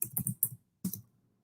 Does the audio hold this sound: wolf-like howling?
no